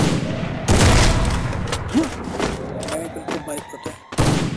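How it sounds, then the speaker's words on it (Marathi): Gunfire from an AWM rifle in a shooting video game, heard as sharp repeated blasts and booms amid busy game effects, with a voice talking over the action. "तर आता AWMY ती यूज करा आपण फायरिंग करणार"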